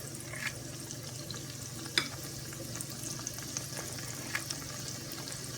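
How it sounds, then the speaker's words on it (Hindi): Dahi bara lentil fritters dropped one by one into oil that is not very hot, frying with a steady soft sizzle and occasional light clinks from a utensil, close by and without talk. "और गोल्डन फ्राई करेंगे।"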